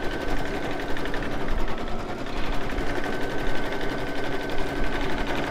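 An embroidery machine stitches a satin-stitch border, giving a steady, fast mechanical whirr and rapid needle clatter that runs evenly and alone at close range.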